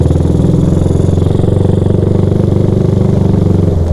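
A Honda Supra motorcycle fitted with an R9 Mugello aftermarket exhaust runs close by, its engine throbbing in a fast, steady loud pulse for about four seconds with no voices.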